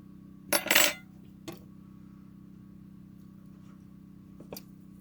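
A spatula pries stuck homemade cabin pizza from a pan with one brief, bright metallic scrape near the start. Two fainter taps follow, then a quiet, humming room.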